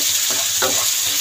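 Garlic and onion fry in a pan, a steady close hiss of oil with a couple of short stirring scrapes over the sizzle.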